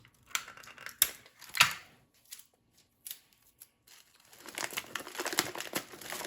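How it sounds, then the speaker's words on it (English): Tape is pulled and pressed down across the middle of a gift bag, giving sharp ripping bursts and crinkly paper rustling, close and intermittent, with a longer stretch of crinkling toward the end. "Actually, I think I'm going to tape the middle down."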